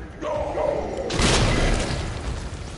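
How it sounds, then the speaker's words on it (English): A grenade explodes in the video game Resident Evil 2, a loud, deep boom that swells and rumbles away over a couple of seconds, preceded by faint game sounds. "Yeah, take a grenade. How about that?"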